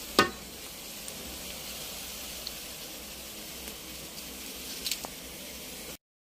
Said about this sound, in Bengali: বেরেস্তাটা তৈরি করে নিচ্ছি